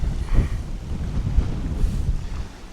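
Gusty wind buffets the microphone in low rumbling bursts at a campsite in the Peak District, loud and close, with no voices.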